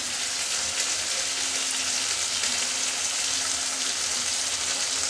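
Chopped tomato frying with spices and salt in a hot pan for a katla fish and helencha greens curry: a steady, even sizzle and crackle that runs throughout, close up with no talking.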